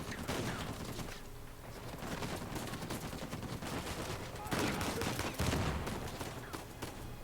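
Turret gunfire in Uncharted 4 rattles in dense, rapid bursts, fairly loud and continuous, with heavier blasts near the end amid game action and faint voices.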